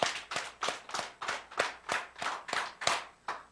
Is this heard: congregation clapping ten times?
yes